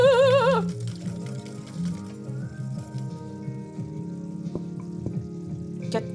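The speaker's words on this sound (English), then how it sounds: "I need to mix all of this cheese in until it's melted." Cheese being stirred into a hot pan, a soft steady sizzle with scraping stirs, behind a melodic tonal background.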